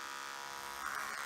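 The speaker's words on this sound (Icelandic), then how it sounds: "Og sný til að þurrka" StylPro makeup brush cleaner spinning a brush dry, a steady high-pitched motorized whir that holds evenly throughout, close and fairly quiet with no voices.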